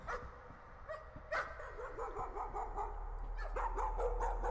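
A dog barks repeatedly in a rapid, yappy run over a low rumbling backdrop inside the horror game Layers of Fear, with a few sharper yips standing out near the start and end.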